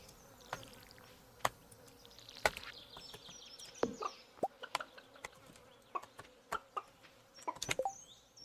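Chickens cluck on a farm in the Stardew Valley video game, with soft scattered clucks and short chirpy game sounds, quiet and sparse throughout.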